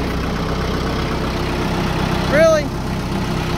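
A tractor engine idles with a steady, close, low rumble and throb throughout, while a voice briefly speaks over it.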